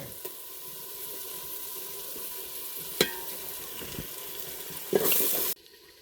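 A beef curry base of onion, garlic and ginger fries in a pan with a soft, steady sizzle. A sharp clink comes midway, then a louder burst of frying and stirring is followed by a sudden drop to quiet.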